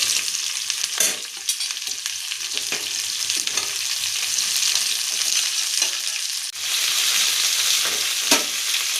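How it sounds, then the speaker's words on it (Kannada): Sliced onions sizzle steadily in a pan for a quick onion palya, a bright continuous frying hiss with occasional stirring scrapes and pops, close and unaccompanied by speech. "ಈರುಳ್ಳಿ ಕಲರ್ ಚೇಂಜ್ ಆಗಬೇಕು, ಲೈಟ್ ಬ್ರೌನ್ ಆಗೋ ತನಕ ಹುರ್ಕೊಳ್ಳೋಣ"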